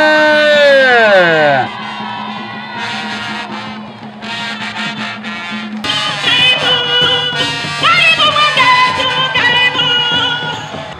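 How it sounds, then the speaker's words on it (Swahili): A crowd ululates at an Uhuru Torch welcome, with long high trilling voices rising and falling together, loud and close, with shouts and cheering mixed in. "Vigelegele."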